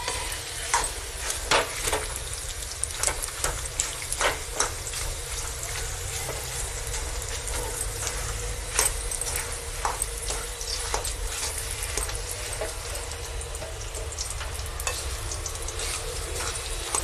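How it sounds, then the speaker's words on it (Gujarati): A spoon stirs and mashes dates in a hot pan while making date and dry fruit laddu, producing continuous close sizzling with rhythmic scraping strokes throughout, no talk. "ખજૂરને ફેરવતો જવાનો અને ભાંગતો જવાનો."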